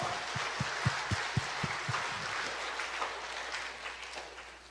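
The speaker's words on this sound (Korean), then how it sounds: "우리 하나님께 영광의 박수를 드리겠습니다" A church congregation claps during a Korean sermon. A few distinct, rhythmic claps come first, then they blur into a soft, distant wash of applause that slowly thins out. No one speaks.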